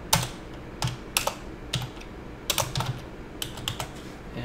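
Fingers type commands on a computer keyboard in short bursts of close, crisp key clicks with brief pauses between, no voices present.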